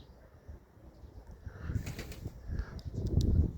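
Pigeons in a loft coo softly in low murmurs while wings flap in brief bursts, faint and close, growing slightly busier toward the end.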